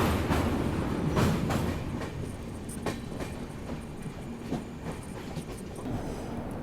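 Rajdhani Express rolling slowly into North Lakhimpur railway station, a steady close rumble with intermittent wheel clacks and brief squeals across the rail joints.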